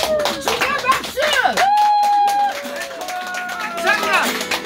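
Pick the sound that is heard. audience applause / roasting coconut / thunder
audience applause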